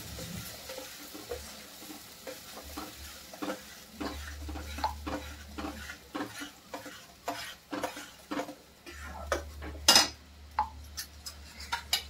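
Usal bhaji stirred in a frying pan, a soft sizzle under a run of distinct spatula scrapes and clacks against the pan, close and fairly quiet, ending with a sharper metallic clink.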